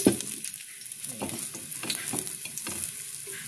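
Ginger sizzles in hot cooking oil in a pan, a close, steady crackling hiss with scattered stirring scrapes.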